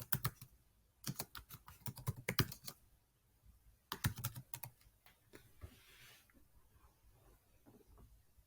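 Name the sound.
typing film title on computer keyboard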